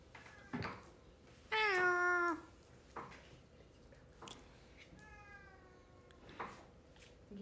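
A cat meows clearly several times close to the microphone, one long rising-and-falling cry in the middle followed by shorter, softer mews, with faint background noise and scattered small clicks between them.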